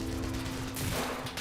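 Mortar tubes firing high-explosive rounds in a video game give off a loud, continuous rumbling volley, with sharper bursts of firing toward the end.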